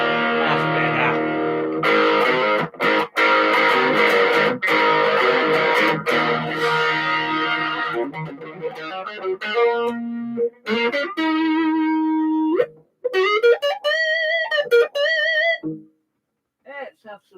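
An electric guitar played through a Marshall Mark 1 Governor distortion pedal, starting with loud, thick distorted chords and stabs, then moving to sustained, bending lead notes and melodic phrases before fading out.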